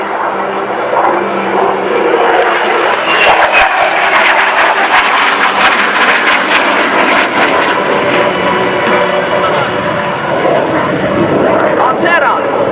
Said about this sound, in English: Snake Pass is one of the hardest maneuvers for F-16.